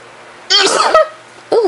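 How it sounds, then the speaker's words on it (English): A sudden, loud, close sneeze bursts out of a quiet room, followed a moment later by a second shorter breathy burst. "Excuse me, I'm about to sneeze."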